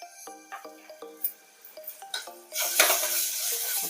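Whole garam masala stirred in a metal cooking pot for mutton haleem: a spoon clinks and rings against the pot in a quick, uneven rhythm, then gives way to a louder, steady sizzle close up.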